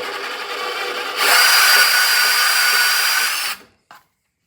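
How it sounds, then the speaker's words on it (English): Portaband portable band saw slicing through a wooden pen blank, a steady buzzing cut that rises in intensity for a couple of seconds, then stops abruptly with a brief knock afterward. "I like my Portabands just because I can cut through things quicker."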